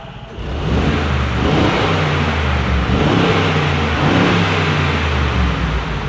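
A V8 SUV engine revs hard and loud, roaring up and down through a couple of throttle blips with a deep, rumbling growl close by.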